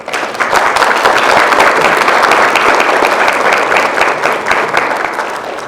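Audience applause at a family gala, a large crowd clapping steadily and loudly for several seconds, swelling quickly at the start and tapering slightly at the end.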